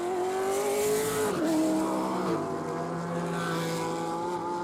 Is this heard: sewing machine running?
no